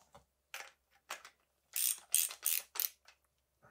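Ratchet socket wrench clicking while working on a FOX Float 34 mountain bike suspension fork, several short bursts of rapid ratcheting close up, separated by brief pauses, in an otherwise quiet workshop.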